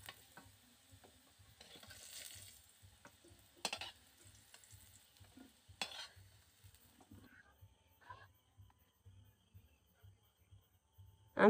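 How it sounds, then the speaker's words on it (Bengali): Potatoes fry in a kadai for a home-style climbing perch curry, giving a faint, sparse sizzle broken by scraping stir bursts over a steady low hum. "আলুগুলোও প্রায় ভাজা হয়ে গেছে"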